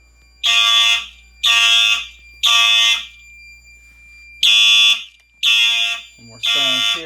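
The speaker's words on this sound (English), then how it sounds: "Now we will mag test the heat detector up here." A home heat detector being magnet-tested sounds its alarm in six loud, evenly spaced high-pitched beeps, each about half a second long, close by with no talk.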